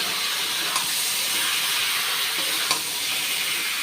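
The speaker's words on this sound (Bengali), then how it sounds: "এখন চিকেনটা কষা হচ্ছে" Chicken being sautéed in a pan, kosha style, in a home kitchen: a constant, even frying hiss with a couple of faint clicks, close and steady with no voices.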